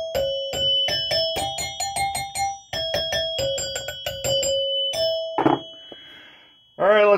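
Gottlieb pinball chimes fitted in a 1974 Williams Skylab chime box ring out in a quick series of bright, resonant dings with tones lingering, followed by a couple of duller knocks and a short burst of voice at the end.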